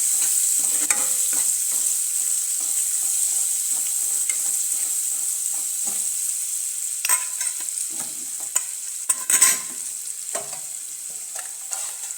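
Chopped onion sautéing in a pan for sev tamatar sabji: a steady soft sizzle with scattered stirring scrapes and a few louder clinks near the end.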